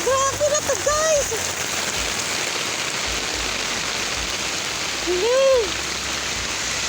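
Heavy storm rain pours down in a dense, unbroken hiss and roar, loud and close, while a voice calls out briefly over it a couple of times.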